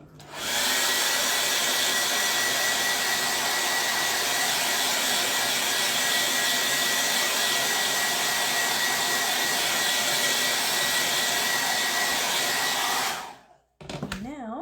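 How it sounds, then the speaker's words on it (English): A blow dryer runs continuously at close range, drying a transfer on a plain wood plank, a loud steady whooshing roar for about thirteen seconds before switching off, followed by brief faint handling noise. "I'm about to get loud with the blow dryer."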